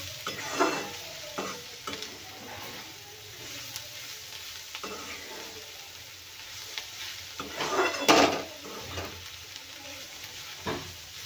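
Chopped tondli (ivy gourd) cooks as a dry bhaji, sizzling softly in the pan while a spoon stirs it in scattered scraping bursts, the strongest near the end, and nobody speaks.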